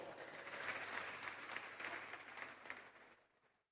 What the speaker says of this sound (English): Please join me in giving a round of applause to Professor Emmanuel